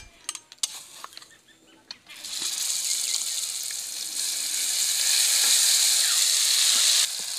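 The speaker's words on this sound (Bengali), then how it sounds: "এবার দিয়ে দিচ্ছি বেটে রাখা সর্ষে আর কাঁচা লঙ্কা" Ground mustard paste and green chillies drop into hot mustard oil with chopped dried chillies, setting off a loud, sustained frying hiss that follows a few sharp clinks and scrapes.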